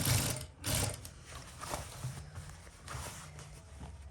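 A sewing machine stitches the hem of a pair of jeans being shortened, a quiet, continuous mechanical whir with a rapid needle patter that holds steady throughout.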